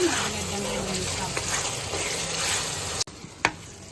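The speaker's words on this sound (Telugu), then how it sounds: "ఉల్లిపాయలు వేగిన తర్వాత మనం కట్ చేసుకున్న టమాటా ముక్కలు వేసుకుందాం. కలుపుకుందాం." Onions and cut tomato pieces sizzle in a pan for mutton curry while being stirred, with a continuous frying hiss and scraping. The sizzle cuts off abruptly near the end, followed by a couple of sharp clanks.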